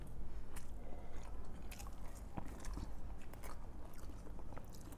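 Close, crisp bites and steady chewing of crunchy fried bajji fritters, with repeated crackly crunches and wet mastication sounds, quiet and intimate with no talking.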